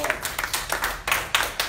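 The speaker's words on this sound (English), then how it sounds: "Give him a hand clap." Congregation clapping at a church service during a funeral-themed sermon, a short burst of hand claps in loose rhythm, fairly close and moderately loud, with voices mixed in.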